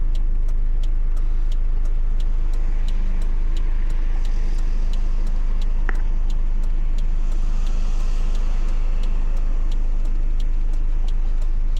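A 1991 Toyota Hilux rental in Japan heard from inside the cab while driving: a steady low engine and road drone runs throughout, with a faint regular ticking over it.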